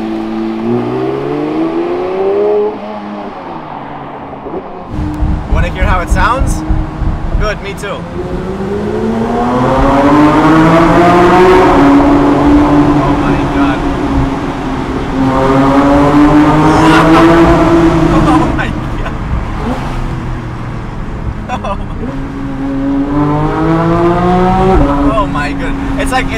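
A 2022 Porsche GT3 with a 4-liter naturally aspirated straight six making 510 horsepower is driven hard, its loud engine rising and falling through repeated revs and gear changes while people talk over it.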